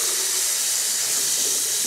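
Hot water runs steadily from a shower in a hotel room in Prague, a continuous close hiss of spray with no voices over it.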